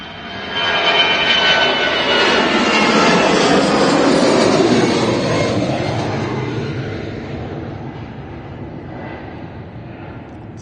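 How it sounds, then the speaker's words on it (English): A Lufthansa Airbus A320 jet departing Manchester Airport for Frankfurt roars past close by, a loud sustained engine rush that swells, peaks, then slowly fades as the aircraft moves away. "This is the Lufthansa A320 going back to Frankfurt."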